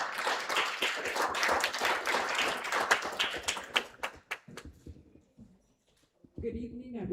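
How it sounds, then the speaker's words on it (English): A crowd at an inauguration and jersey launch event applauds with dense, sustained clapping that thins out and fades, followed by a moment of quiet and then a voice starting to speak. "Give her a big round of applause"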